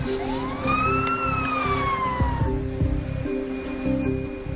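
A wailing ambulance siren rises and falls as it passes close by, over a steady engine rumble and traffic noise.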